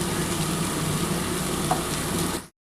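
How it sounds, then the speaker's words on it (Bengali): Hot water is poured into a pan of frying spice paste for a vegetarian potato, papaya and soybean curry, giving a loud, steady sizzle and stirring that runs unbroken before cutting off abruptly. "এবার এই জলটা ঢেলে দিচ্ছি"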